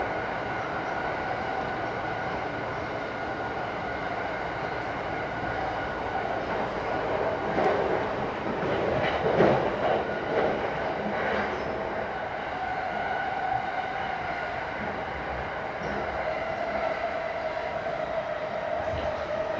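A JR E217 series train runs on the Sobu Rapid/Yokosuka Line, heard from inside as a steady rumble with rhythmic wheel clatter that swells midway and then settles back to a constant drone.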